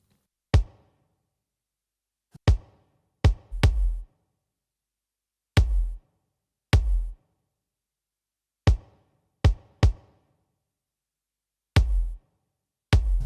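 Isolated kick drum hits from an added layer in a metal mix sound as sharp, punchy thumps with a deep low-end body. They come in scattered single and double strikes with silence between them.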